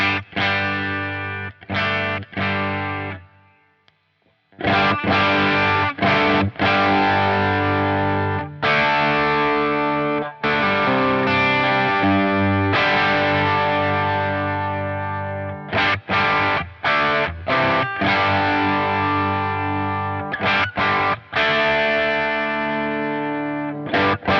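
An electric guitar plays loud, sustained chords in a clean tone through a J Rockett HRM v2 Dumble-style pedal, with rhythmic stops and restarts and one brief pause early on. No voices are heard.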